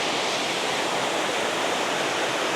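Benton Falls waterfall plunges steadily into its plunge pool, a dense, even roar of falling water heard close and unbroken, with no voices.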